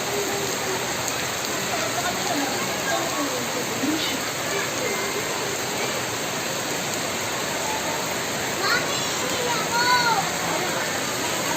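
Steady rain pours at a crowded hot-spring resort in bad weather, a dense, even hiss filling the whole stretch, with faint voices and brief splashes now and then beneath it.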